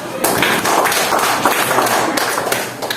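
Classroom applause from teacher candidates during a hands-on session in Binjai, a dense, steady patter of clapping hands lasting a few seconds, close and fairly loud, with scattered taps and murmurs mixed in.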